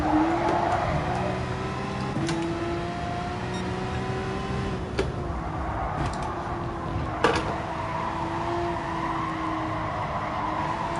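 Race car on a track passing another car in traffic, a steady high engine whine with rising gear pitch and brief shifts, heard from inside the car, loud and continuous.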